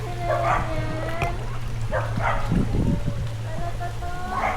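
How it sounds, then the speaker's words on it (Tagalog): Three dogs bark in short bursts over a steady low hum, with people talking nearby. "Lakas tumahol yung tatlo."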